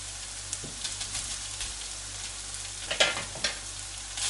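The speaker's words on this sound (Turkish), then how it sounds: "Salça biraz içinde kavrulsun istiyorum." Tomato paste frying with meatballs in a pan makes a soft, constant sizzle, with a few spatula strokes and a sharper scrape near the end, quiet and close, with no one speaking.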